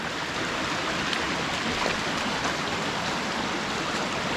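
Rainwater from a heavy downpour pours over a newly built lake spillway as a loud, continuous rushing wash, close and steady, with rain hissing in the background and no voices.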